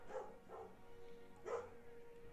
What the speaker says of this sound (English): They bark at everything.